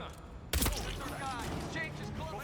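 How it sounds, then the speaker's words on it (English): A burst of rifle fire at guards in the video game Hitman, a loud sharp volley near the start followed by a continuous game background, with a voice speaking over much of it. "shoot the 2 guards outside, grab their disguise, and shoot Jasper with their rifle"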